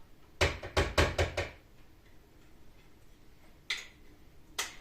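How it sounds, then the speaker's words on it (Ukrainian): Two bursts of knocking while churning butter from homemade sour cream: five quick raps close together, then two single knocks spaced apart after a pause, sharp and near. "Я постукала"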